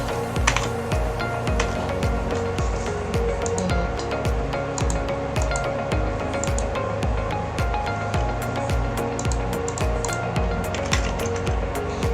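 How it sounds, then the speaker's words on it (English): Rapid, steady typing on a computer keyboard while entering a password, with dense close-up key clicks running continuously and evenly over a low background hum. "Let's only type it."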